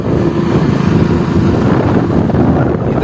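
A tractor drives ahead on a farm road, its steady engine rumble loud and continuous with wind noise mixed in, and no voices.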